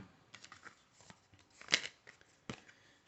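Tarot cards riffle and flick out of the deck in soft, papery bursts, with one sharper snap near the middle and another toward the end, faint and close in a quiet room.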